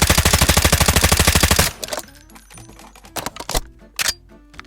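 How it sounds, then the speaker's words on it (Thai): Gunfire while aiming down the scope in Delta Force Mobile starts as a loud, rapid automatic burst, then breaks into scattered single shots and clicks. "เราต้องกดปุ่มยิงด้วย ขึ้นสโคปกดปุ่มยิง"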